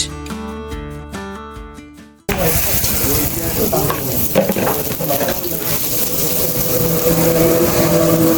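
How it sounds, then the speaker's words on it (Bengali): After a brief musical tune, a loud, dense crackling sizzle of small puti fish (pool barb) frying in oil takes over and continues steadily, at an open-air eatery beside Belai Bil wetland. "এখন যে মাছগুলা ভাজা হচ্ছে এটি হচ্ছে আমার সব থেকে পছন্দের দেশি পুটি মাছ"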